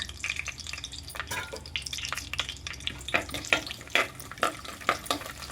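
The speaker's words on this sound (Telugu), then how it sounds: "ఆయిల్ వేడైన తర్వాత మసాలా దినుసులు వేసుకోవాలండి." Whole spices fry in hot oil with a spoon of ghee for a dhaba-style chicken curry, with a soft, steady sizzle broken by irregular clicks and scrapes from stirring, fairly quiet and close.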